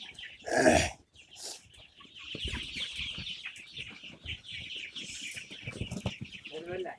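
Many broiler chickens on a poultry farm cluck and chirp together in a busy chorus, with a louder squawk near the start and steady chatter throughout.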